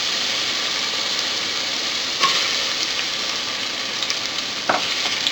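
Garlic and onions frying in hot cooking oil, a loud, steady close sizzle with a few brief clinks of a utensil stirring the pan.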